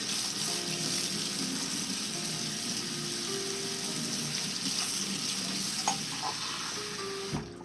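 A kitchen faucet runs steadily into a sink to bring eggs to room temperature, a continuous rushing splash with a few clinks near the end and no talking.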